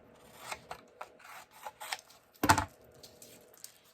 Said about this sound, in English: I'm going to trim this down a little bit so I can reach.